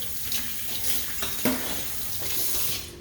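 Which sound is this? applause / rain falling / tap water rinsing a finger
tap water rinsing a finger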